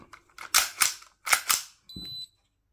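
An Acetech Drumfire airsoft gas unit of 3D-printed polymer under a function test fires four sharp, loud bursts in two close pairs, followed by a short electronic beep with a low hiss.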